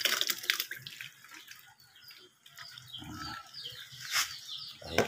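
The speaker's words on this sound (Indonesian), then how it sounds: "Habis itu kita saring, di mana penyaringan ini dilakukan agar airnya terbuang." Cooking water drains through a strainer in a traditional Nusa Penida dish preparation, gurgling and splashing close by in uneven bursts with brief wet slaps.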